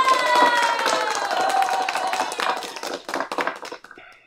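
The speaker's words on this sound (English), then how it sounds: "You got applause." A short round of applause from a small group of people, dense clapping at first that thins out and fades to scattered claps.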